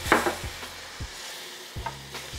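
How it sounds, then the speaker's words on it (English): Sherry wine is poured over a flour roux for mac and cheese, raising a soft sizzle under a few wooden stirs and scrapes against the pot. "we're gonna deglaze a little bit with some sherry wine, about a half cup of that"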